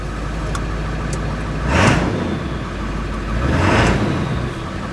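A 7.3 diesel pickup truck engine idles high in a loud, steady rumble with a deep low-end drone, swelling twice as the revs briefly rise and fall, close by and with no talking.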